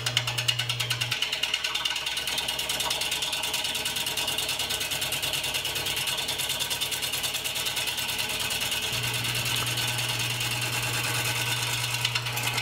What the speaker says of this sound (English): I'm starting out at a speed just below where the lathe starts to shake because of the off-balance nature of this piece.